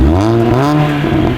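A car fitted with a Miltek catback exhaust drones loudly and close by, its pitch swelling and dipping through a short rev, with no talking.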